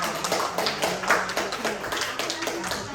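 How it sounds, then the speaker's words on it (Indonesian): Students in a class clap together at close range in a brisk, fairly even series of claps lasting a few seconds, with voices mixed in. "Tepuk tangan untuk kita semua"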